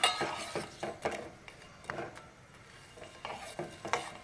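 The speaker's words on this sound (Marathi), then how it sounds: "थोडंसं हलवत करायचं म्हणजे गूळ पटकन विरघळला जातो।" Grated jaggery melts in a pan while being stirred, with intermittent scraping and clinking strokes of a spoon against the metal at irregular intervals, under a faint sizzle and no talking.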